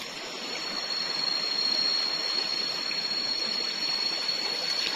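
A flooded forest river rushing steadily nearby, knee-deep water producing a dense, continuous broadband roar with no voices over it.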